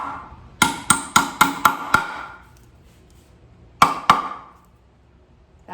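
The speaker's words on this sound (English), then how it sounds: "I am going to hammer that in a little more." Hammer blows on a wooden table pedestal during repair of a warped, dry-rotted table: a quick run of six sharp knocks, a pause, then two more, close and loud with short ringing decay.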